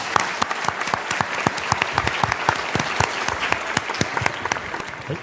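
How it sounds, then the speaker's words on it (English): An audience claps to welcome a speaker at an epidemiology-related conference, loud, steady applause with individual sharp claps standing out throughout. "Let's welcome Professor Lin with a warm applause."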